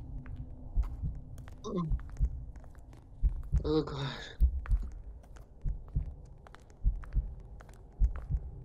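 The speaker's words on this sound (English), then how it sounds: "Why is my heart beating so fast in Roblox game?" A steady heartbeat thumps at a regular pace in a Roblox game, heard through headphones, with a low hum underneath and a brief startled voice over it.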